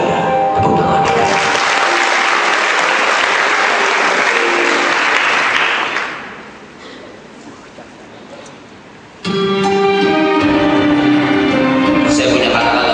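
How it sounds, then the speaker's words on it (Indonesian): Loud crowd applause that swells, drops away to a quieter lull, then music-like tones return with clapping. "Tepuk tangan."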